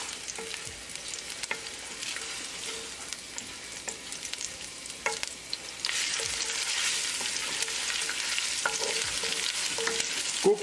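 Ginger, garlic and green chili fry in olive oil with a steady sizzle, broken by occasional stirring scrapes and clicks of a utensil against the pan; the sizzle swells louder midway.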